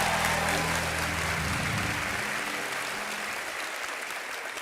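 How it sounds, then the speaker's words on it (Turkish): Studio audience applause for seven-year-old Naz on the Beyaz Show, loud and dense at first, with a low hum fading after two seconds while the clapping carries on steadily. "Naz'a kocaman bir alkış daha alalım"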